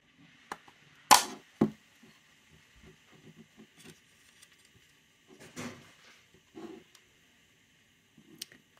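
Plastic front cover of a Bose SoundLink Flex speaker being pried off during a teardown, giving a sharp snap followed by a few smaller clicks and scraping handling noises, close and fairly quiet, with no talking.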